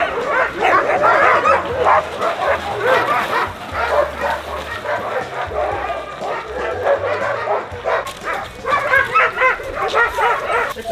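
Sled dogs, Alaskan huskies, bark and yip excitedly in a continuous noisy chorus, close by, with a low rumbling hum underneath.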